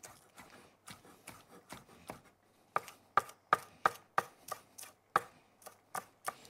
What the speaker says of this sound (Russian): Лук поперек.